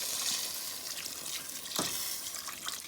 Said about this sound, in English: we're gonna add some hot water to this